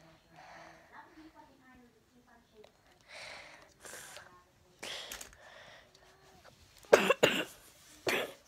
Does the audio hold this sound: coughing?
yes